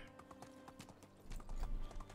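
Horse hooves clip-clopping as a rider travels on horseback in the medieval survival game Medieval Dynasty, a quick rhythmic trot of hoofbeats that grows louder and heavier toward the end.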